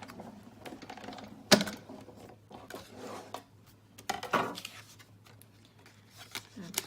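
A die-cutting machine takes a cutting die and paper through its plates, giving a few sharp clunks and rattling, cranking mechanical sounds close by, amid intermittent talking.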